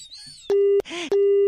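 Phone disconnect tone after a call is hung up: two loud, steady electronic beeps separated by a brief voice-like gap, heard right after a short bit of talk.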